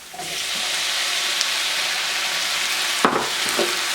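Tomatoes hit a hot pan while cooking ful medames, raising a steady close sizzle and hiss with a couple of brief stirring scrapes near the end.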